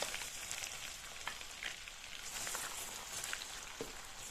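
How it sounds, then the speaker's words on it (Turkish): Soft, steady sizzling and crackling from chopped onions frying in melted butter in a pan, with scattered pops, close by and fairly quiet. "Yağ eridikten sonra doğramış olduğum soğanları üzerine ekliyorum."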